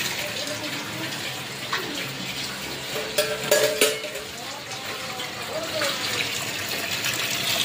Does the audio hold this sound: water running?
yes